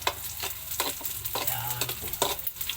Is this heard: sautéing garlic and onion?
yes